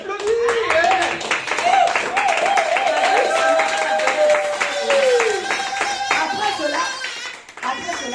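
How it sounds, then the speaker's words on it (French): Church congregation clapping loudly and steadily, with a sung or chanted voice carrying over the applause before it thins out near the end. "On applaudit."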